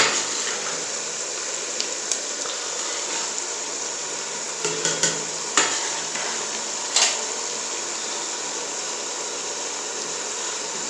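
Potatoes, carrots and other vegetables stir-fried in a pan for Chinese rice give a steady sizzle, with occasional scraping clinks of the spoon against the pan and no talking.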